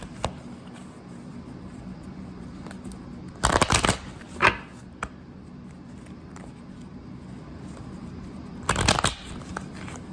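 Tarot cards being shuffled in a few short, crisp riffling bursts close by, separated by quieter stretches of faint handling noise and room hum.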